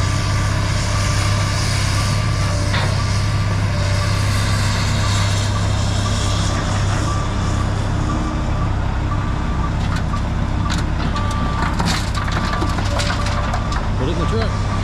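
Heavy machinery grinding and rumbling as an excavator scrapes topsoil at a home build site, loud and continuous with a steady low engine drone, scattered scraping clanks, and a voice briefly over it.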